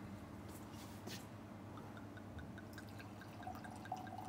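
Chilled wine trickles and drips into a glass as it is poured, a soft, faint liquid patter under a steady low room hum.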